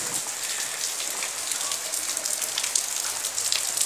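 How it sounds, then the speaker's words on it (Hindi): Steady rain falling outdoors during a day of continuous rainfall, a dense, even hiss of drops hitting surfaces, close and unbroken, with no voices. "अभी मैं बाहर जा रहा हूँ बारिश में"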